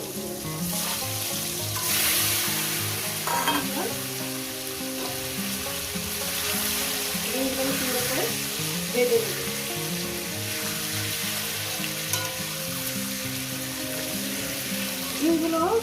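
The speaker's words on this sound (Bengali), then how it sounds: "ভেজে নেব ডিমগুলো" Eggs fry in a pan for a spicy egg curry, making a continuous sizzle with occasional stirring, layered under a steady tonal background that sounds like music.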